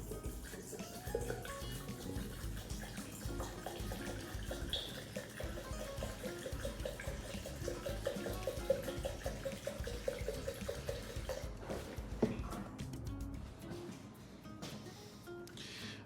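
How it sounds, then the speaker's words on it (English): Oil trickles softly and continuously into the oil filter housing of a 1955 Farmall Cub tractor. The quiet pour lasts most of the stretch, and a few light clinks come near the end. "I'm going to pour a little bit in this oil filter housing"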